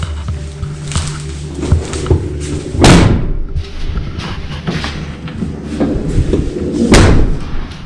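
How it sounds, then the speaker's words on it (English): Doors on a 2007 passenger van slam shut after a Sherpa installation on the passenger door, giving two loud, close, heavy thuds a few seconds apart over a background of lighter knocks and rattles. "All right, let's close the doors and see how everything works."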